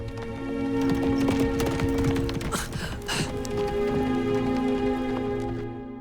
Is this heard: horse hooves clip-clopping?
yes